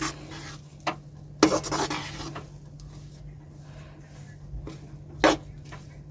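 Gram flour being roasted again in a pan over a low flame, a quiet dry background with a few sharp scrapes and clinks of a spoon against the pan.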